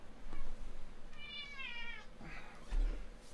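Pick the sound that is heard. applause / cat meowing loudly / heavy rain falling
cat meowing loudly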